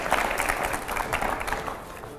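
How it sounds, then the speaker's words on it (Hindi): Loud, dense applause from an audience at a Hindi television event for a singer, with steady clapping and crowd noise filling the whole stretch and no pauses. "यहाँ पर जोरदार तालियां हो जाए"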